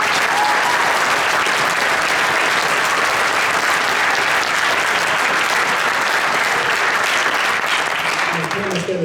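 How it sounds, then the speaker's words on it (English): Sustained, dense applause from a school band concert audience in a hall, steady and full throughout with no letup, honoring two performing bands, including a district symphonic winds group. "Can we give both of those groups a round of applause?"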